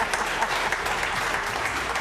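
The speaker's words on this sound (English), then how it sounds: "Clap hands again." Audience clapping at an Africa Cup of Nations announcement event, a dense, steady wash of applause filling the full two seconds without a break.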